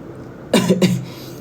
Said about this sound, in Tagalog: May onting ubo lang.